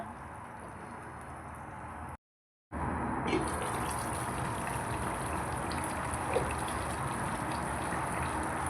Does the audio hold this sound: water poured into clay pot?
yes